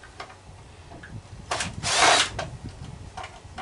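A power drill backs Phillips screws out of a Razor scooter being scrapped, giving brief whirring bursts, with the loudest run near the middle, amid light clicks and handling noise.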